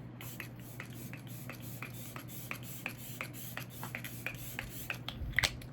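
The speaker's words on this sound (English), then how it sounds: "So I'm going in with the MAC Fix Plus setting spray" Rapid, repeated short spritzes of MAC Fix Plus setting spray misting onto a face in quick bursts close by, over a low steady hum.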